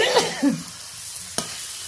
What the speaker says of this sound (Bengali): বেগুনটা দিয়ে বেশ ভালোভাবে একটু কষিয়ে নিলাম বেশ ভাজা ভাজাও হয়ে গেছে